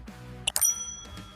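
A bright notification bell chimes once as a short double-struck ding, then rings out briefly before a softer tail.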